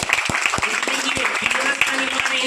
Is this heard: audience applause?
yes